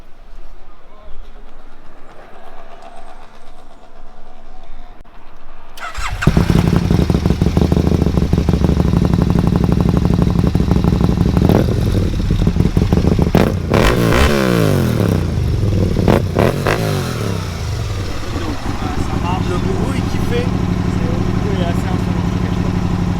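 Motorcycle engine starting cold after a few seconds of quiet, then a loud close rumble with rising and falling revs throughout, voices speaking over it.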